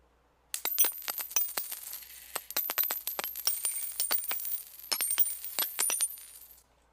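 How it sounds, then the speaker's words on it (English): Quarters tumble onto a hard surface in a long, dense cascade of bright metallic clinks and rattles, loud and close, standing in for spent bullet casings falling. "I just recorded me dropping quarters."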